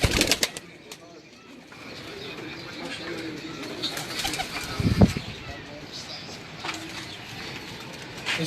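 Racing pigeons on a Lahore rooftop during a pigeon-flying championship, with soft coos, brief wing flaps and chirps close by, while people talk and background noise fills in.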